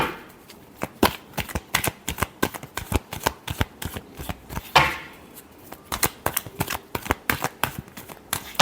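A deck of tarot cards is shuffled in a run of sharp, rapid riffle bursts, close and crisp, repeated many times with short gaps and no talking.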